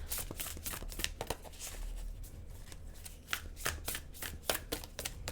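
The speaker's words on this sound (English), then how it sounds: "The cards are very stiff, and so it's very hard sometimes to shuffle these" Repeated bursts of a large, stiff deck of cards being shuffled up close, crisp riffling flutters separated by brief pauses.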